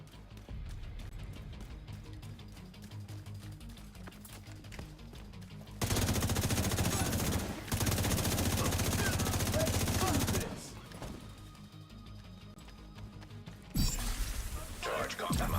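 Bursts of automatic assault rifle fire in a hardcore video game, sustained rapid volleys separated by quieter stretches with mechanical clicks, loud and near, with a voice talking over parts.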